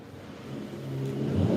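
Mercedes-AMG E 53 Cabriolet 4Matic engine idling low and steady, then rising in pitch as it revs up toward the end, heard close from inside the car with no talk.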